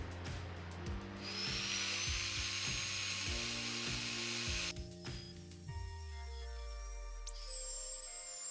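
An angle grinder works over fresh welds on the inner rocker of a BMW E30 325i Sport under restoration, a loud continuous whine broken by repeated short passes, with the pitch shifting and ending in a rising squeal.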